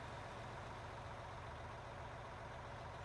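A truck engine in the mining game Out of Ore holds a steady, low, droning rumble without clear rises in pitch, continuous and fairly quiet with no voices.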